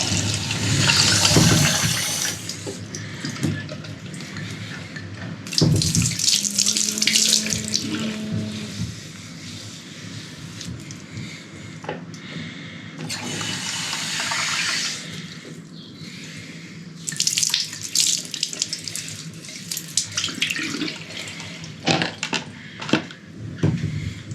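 Cold tap water runs into a sink in loud gushing bursts, stopping and starting several times with brief quieter pauses between.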